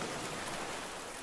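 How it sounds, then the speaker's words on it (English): Gentle rain falls and drips in a steady, even wash of soft patter, close and continuous, with no one speaking. "Rain continues its gentle work, dripping, falling, softening everything it touches."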